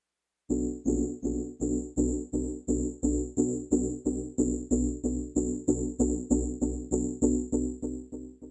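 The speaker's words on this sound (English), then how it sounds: "It's basically just kind of a bit crushing effect." Bit-crushed synth sound from Ableton's Erosion effect: a steady, evenly spaced pulse of gritty tones repeating about three times per second, each with a bright buzzy overtone, close and alone for eight seconds.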